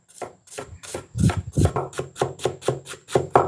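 Onion chopped with a knife on a slightly uneven cutting board while preparing a lamb barbecue: about ten steady, crisp knife strikes in a brisk rhythm, close and clear, with faint talk now and then.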